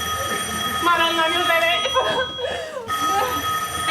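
A telephone rings with repeated electronic trills in a home setting, heard alongside people talking over it in Italian throughout.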